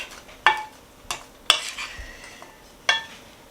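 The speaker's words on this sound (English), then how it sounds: "Now I mixed everything good, mixed it all well" Pasta and bean salad being stirred in a bowl, with a few sharp clinks of a utensil against the dish and soft scraping in between, close and alone.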